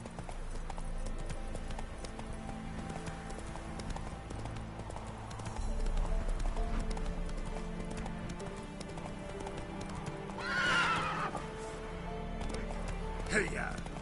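The horse Roach in a video game gallops with steady rhythmic hoof clip-clops under continuous talk and game sound, with brief whooshing bursts near the end.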